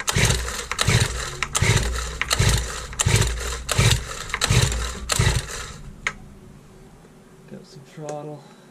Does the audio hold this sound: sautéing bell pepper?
no